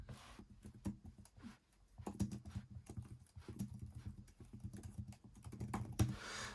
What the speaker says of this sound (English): So if we just type in